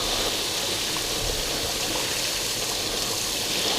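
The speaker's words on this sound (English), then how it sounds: "you should be getting hot water, obviously, at your tap" Hot water runs steadily from a household tap after a tankless water heater has been flushed, a constant close rushing and splashing with no breaks and no talking.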